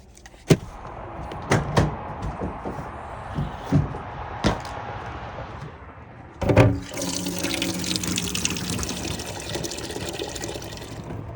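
Water pours steadily into a container inside a truck, a broad rushing stream that starts abruptly after a few scattered clunks and handling knocks.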